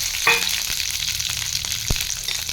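Chillies frying in hot oil in a pan for Guntur gongura chutney make a loud, continuous crackling sizzle, with a brief metallic clink early on and a soft knock later.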